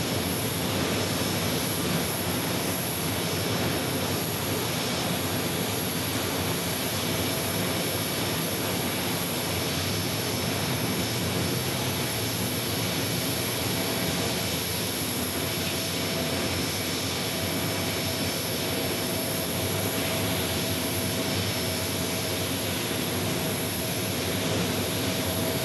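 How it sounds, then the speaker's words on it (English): An Airbus A321neo jet airliner arriving from Philadelphia produces a continuous, steady engine roar with a thin high whine, sustained and fairly close throughout. "This A321neo in from Philadelphia."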